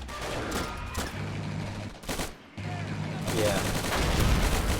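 Gunfire in the Army Men: Plastic Wars video game sounds as a dense, continuous rattle of shots and explosions over a steady engine drone, with a brief pause in the middle. A voice speaks briefly.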